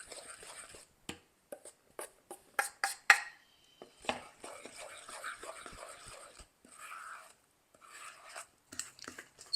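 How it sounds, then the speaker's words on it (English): A spoon scrapes and stirs dry ingredients into wet batter in a bowl in a home kitchen, making soft, irregular rubbing and scraping strokes close up, with brief pauses between them. "So now I'm going to add the dry ingredients to the wet ingredients slowly. Give it a little stir, and then just stir until combined."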